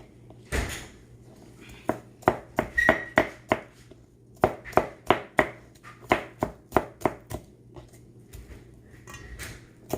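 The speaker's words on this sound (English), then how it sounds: "And then I'm just going to keep chopping." A knife chops an onion on a cutting board, with a quick run of close, sharp, rhythmic cuts coming in bursts, then slowing and thinning out toward the end.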